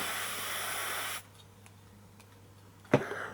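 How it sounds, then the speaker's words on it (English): A steady spray of aerosol deodorant hisses for about a second, then stops, leaving quiet room tone and a short thump near the end. "with spraying some deodorant, be able to rub this off"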